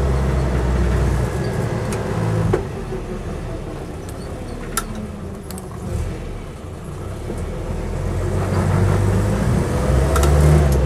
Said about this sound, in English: But I'm actually quite taken with the way this one drives.